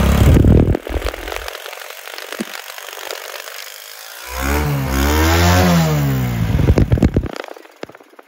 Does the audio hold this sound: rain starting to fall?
no